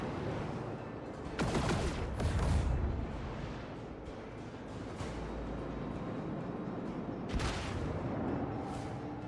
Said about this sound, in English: These things are sending out plasma torpedoes